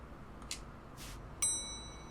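A bell dings repeatedly in the video game Larry: Wet Dreams Dry Twice: two soft bursts, then a brighter ringing strike that lingers with a fading metallic tone, all fairly quiet.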